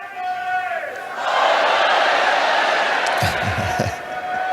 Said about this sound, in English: the crowd are loving you